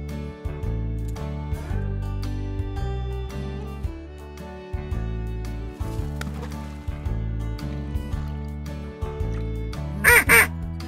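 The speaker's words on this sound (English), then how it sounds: "Duck." Upbeat background music plays for a long stretch before a duck gives a quick pair of loud quacks at the very end.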